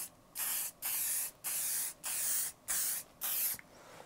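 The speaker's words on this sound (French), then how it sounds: "Je vais vous laisser au montage le bruit du spray pour que vous vous rendiez compte." An aerosol can of hair lacquer spraying in six short, even bursts separated by brief pauses, close and loud hissing with no talking.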